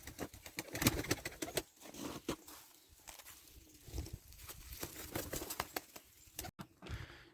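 Pigeons coo softly amid constant fluttering, scuffling and pecking clicks, birds crowded together in a coop.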